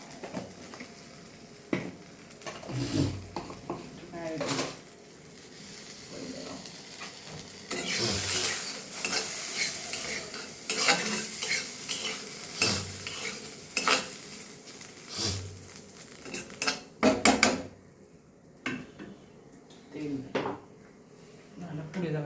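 Potatoes with spices being stirred in a frying pan for crispy potato fries, with repeated scraping and clinking of a utensil against the pan, soft sizzling beneath, and close pauses between strokes.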